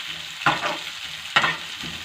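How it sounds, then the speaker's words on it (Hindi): Cabbage for vegetable noodles sizzles in a hot pan, with two bursts of stirring and scraping over a steady frying hiss. "इसको मैं हल्का सा फ्राई कर लूँगी।"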